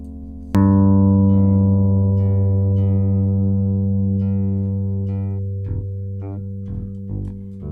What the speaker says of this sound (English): Is that bass coming through okay and stuff?